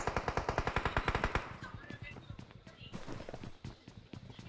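Rapid automatic gunfire bursts loud and close in a mobile battle-royale game, a fast regular volley that stops abruptly, then gives way to scattered softer game sounds and footsteps.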